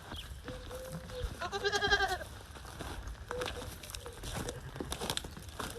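Goats on a ranch give one clear, loud bleat among softer shuffling and rustling, with chickens and sheep nearby; a voice speaks briefly around it.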